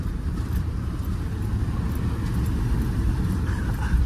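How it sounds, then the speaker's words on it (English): A Volkswagen Amarok V6 pickup of 256 brake horsepower drives across a field, giving a steady, loud low engine drone and rumble with no break throughout. "You won't beat the Amarok, lads. The V6, 256 brake horsepower."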